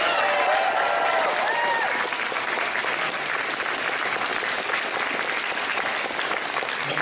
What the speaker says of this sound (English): So a big round of applause for these guys